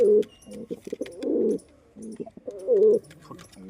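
Pigeons coo up close in repeated throaty, rolling bursts, loud and clear with short pauses between calls.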